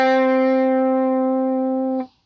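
A clean electric guitar on the bridge pickup, with no effects, plays a single sustained note rich in harmonics that rings evenly for two seconds, then is abruptly muted.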